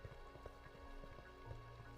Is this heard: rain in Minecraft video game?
yes